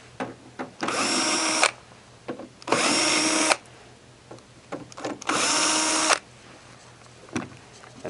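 A power drill whines in three separate bursts of about a second each, removing the bottom screws from the back of a humidity control cabinet, with brief clicks and handling noises in the quiet gaps.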